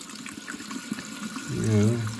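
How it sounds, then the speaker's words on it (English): Water from a reopened supply line runs into a rebuilt toilet, a soft steady gush that swells near the end of the moment, close and alone. "Slowly let it, you'll see water start coming out."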